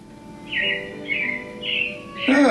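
Several bright robin chirps from the Carousel of Progress show at Magic Kingdom, three short rising calls in an even rhythm over a soft musical background, ending in a louder burst.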